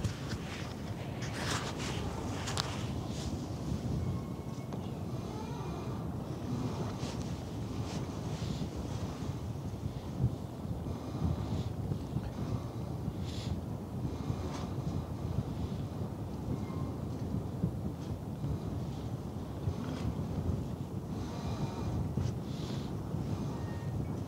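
Strong easterly wind buffets an unshielded microphone with its windscreen removed, a constant loud rumbling roar with gusty bursts that continues throughout, alone and without speech.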